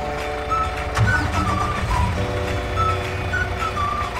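Trucks in a farming simulator game start up, a steady mid-volume engine drone with tonal beeps and chimes layered over it throughout.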